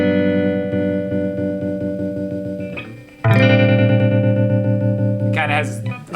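Guitar chord strums run through an Old Blood Noise Whitecap tremolo pedal, ringing chords pulsing with a gentle ramping tremolo, close and steady, with a fresh strum partway through.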